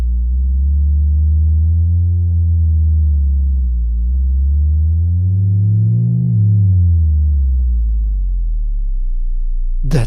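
A deep, sustained bass tone from an analog synthesizer, loud and alone, its pitch slowly sweeping down and back up in a smooth arc before a sharp click at the very end.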